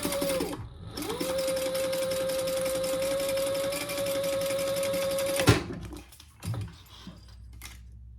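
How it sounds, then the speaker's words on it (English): A domestic sewing machine runs a long, steady row of top stitching through cork fabric, its motor whirring evenly for about five seconds before stopping, followed by a couple of quiet handling knocks. "I'm going to do a row of top stitching across the top at 1/8 of an inch"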